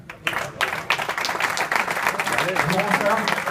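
An audience claps for a magician at a company year-end dinner, with dense, steady applause building after a few initial claps and continuing throughout, voices mixed in.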